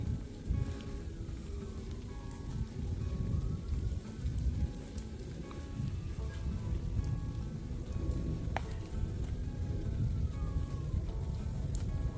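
Rain falls steadily during a hike over The Dome on the Te Araroa trail, a constant close patter of drops with no voices.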